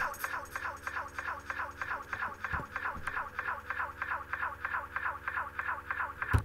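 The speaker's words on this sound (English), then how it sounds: "you get that long kind of echoing tail there, which does eventually fade away completely" A DJ delay effect in Traktor with freeze engaged repeats a short sound in a steady pulsing loop, each echo evenly spaced and sustained at near-constant level across the clip with no voices.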